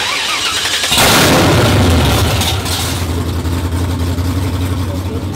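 A drift car's engine starts with a sudden loud crank and catch at Drift Masters 2022 Round 4 in Riga, then settles into a steady, deep idle rumble close by.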